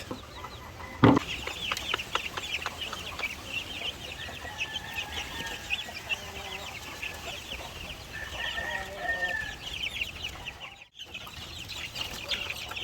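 White Leghorn chickens and young chicks on a breeding farm keep up busy clucking and peeping, with one brief sharp knock near the start and soft farm noise underneath.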